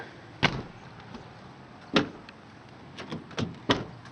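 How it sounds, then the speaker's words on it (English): The doors of a 2007 Honda Ridgeline pickup shut one after another: a few sharp, solid thuds, well spaced at first, then three in quicker succession near the end. "Let me get these doors closed."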